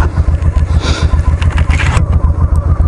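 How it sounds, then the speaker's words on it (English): A motorcycle engine and exhaust thrum loudly and close while riding, a pulsing low drone with wind buffeting and some clatter across the stretch. "it filters out a lot of the exhaust noise"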